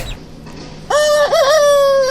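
A young rooster gives a single short crow, starting abruptly after quiet and wavering through a few strained, uneven notes, fairly close and clear with no talk.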